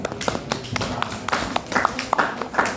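Classroom hand clapping during a chemistry lesson, a loose patter of several people's claps with uneven, sparse rhythm, close and moderately loud, with faint voices underneath.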